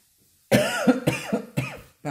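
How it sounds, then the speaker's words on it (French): A woman coughs several times in quick succession indoors while sewing, close and loud, with short harsh bursts separated by brief gaps. "Je tousse"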